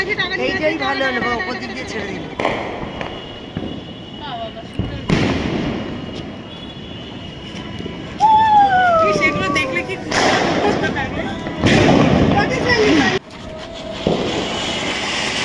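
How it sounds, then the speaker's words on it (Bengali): Firecrackers and fireworks burst at a family Diwali celebration, loud repeated bangs with whistling rising rockets, near and far, over continuous chatter and voices of people talking. "দেখো বাজি, প্রত্যেকটা বাজি এত সুন্দরভাবে ফাটছে"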